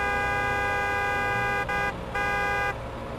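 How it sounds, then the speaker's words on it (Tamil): A car horn blares in a long, steady honk with a brief break, loud and close over low traffic rumble. "சூப்பர் ஸ்பீடோ, ஹார்ன் அடி."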